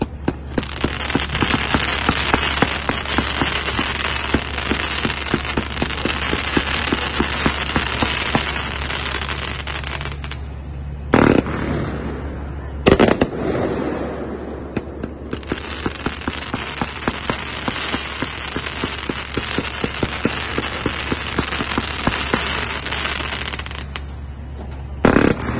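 The Summertime 90-shot consumer firework cake at a demo, a long rapid string of crackling launches and pops with a steady low rumble beneath, broken by two brief pauses with sharp bangs.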